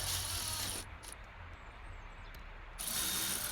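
A high-speed ratchet runs bolts back in during an oil and filter change on a Ford Focus 1.6 diesel, with a fast whirring and clicking that cuts out briefly midway and then resumes.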